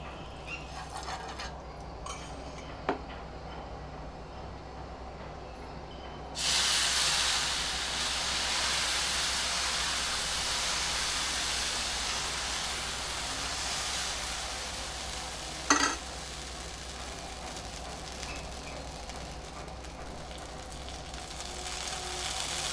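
Sprouted moong dal pancake (dhirde) frying in a pan, a steady close sizzle and hiss running throughout that swells louder partway as fresh batter goes in, with a brief sharp spatter near the end.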